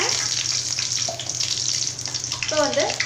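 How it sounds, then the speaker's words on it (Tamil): Mustard seeds and chana dal frying in hot oil for a yellow pumpkin masala, a continuous close sizzle with light crackling and spluttering, with faint stirring and a brief whistle-like tone near the end. "இப்போ வந்து கடுகு நல்லா பொரிஞ்சு வர டைமில்"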